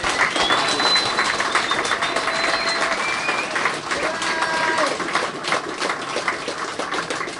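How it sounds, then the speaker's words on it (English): Sustained applause fills a room at a Northeast racers' reunion held in a museum, honoring a racing champion; dense clapping from a sizable crowd runs steadily throughout with a few faint voices mixed in. "of applause for the champ."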